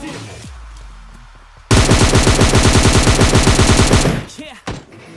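Rapid automatic gunfire from a scar rifle in a battle royale video game bursts loudly into a sustained rattling stream for a couple of seconds, then cuts off, followed by a few scattered sounds.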